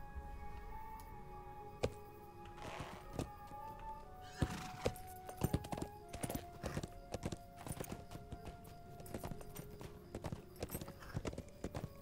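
Horse hooves clip-clop steadily in a video game, a brisk even rhythm of close, sharp knocks over a faint musical background, with no talking.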